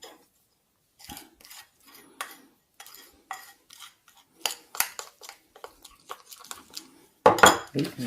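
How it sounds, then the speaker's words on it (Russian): A spoon scrapes and mixes flour-thickened dough in a bowl, making carp-fishing bait: a series of short scraping and clinking strokes separated by brief pauses, close by, ending in a louder burst of scraping, with no talk. "Можно взять ложечку, чтобы все это собрать."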